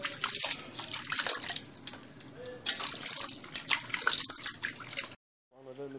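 Tap water runs and splashes while raw chicken is rinsed in a sink, a close, uneven spattering stream that stops abruptly, followed by a brief voice.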